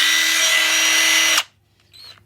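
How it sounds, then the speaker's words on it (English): A 3/8 inch drill impact driver whirs loudly and steadily at close range for over a second, then cuts off abruptly, leaving a faint short whine afterward. "So right there you have your 3/8 inch drill impact."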